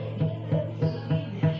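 An acoustic guitar chord strummed repeatedly without control, so the strings buzz and rattle; five evenly spaced strums ring out close and fairly loud with no talking.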